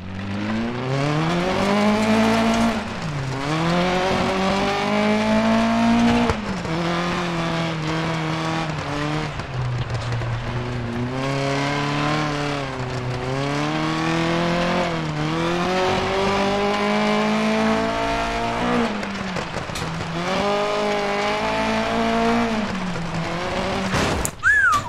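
A rally car in the Dirt Rally 2.0 video game, driven with an H-shifter and clutch, revs hard through repeated rising and falling gear changes over about twenty-five seconds, its engine loud and close, with brief skids between pulls.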